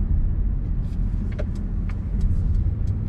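A 2020 Mercedes-Benz GLB 200 with a 1.3 litre engine driving around town in traffic, heard from inside as a steady low engine and road rumble with faint light clicks and ticks above it.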